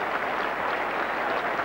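A cricket crowd at The Oval applauds a cover drive by Gower during the 1985 England v Australia Test: steady, moderately loud clapping from a large, distant crowd throughout.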